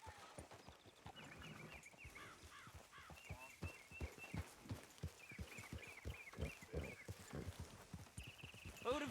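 Horses trot in Red Dead Redemption 2, their hooves clip-clopping in a steady, fairly quiet rhythm, with soft game ambience and occasional voices underneath.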